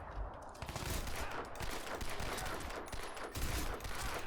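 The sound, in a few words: gunfire in video game Crysis 2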